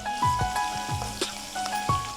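Garlic paste sizzles steadily in hot oil in a pan while bitter gourd pachadi is being cooked, with a few spoon scrapes and stirring taps over the continuous fry.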